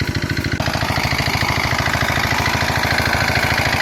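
A farm water pump engine out in sunny paddy fields runs close and loud with a steady, fast thumping chug, a rough knocking idle that holds an even rhythm throughout.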